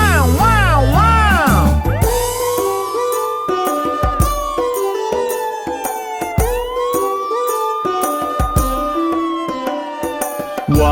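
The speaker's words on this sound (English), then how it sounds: "Let's call an ambulance." A cartoon ambulance siren in a children's song wails in long rising and falling sweeps over loud, steady music and singing.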